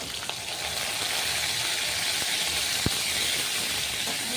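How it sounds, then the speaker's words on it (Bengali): Crushed garlic, chopped onion and green chillies fry in oil for a greens dish, making a dense, continuous sizzle and hiss, close and fairly loud, with one faint tap of a utensil. "ভালো করে একটু ভেজে নেব।"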